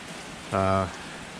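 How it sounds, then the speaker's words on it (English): Heavy rain falls outside as a steady, even hiss throughout, with a brief tonal hum rising over it midway. "it's still raining outside, and it's raining a lot."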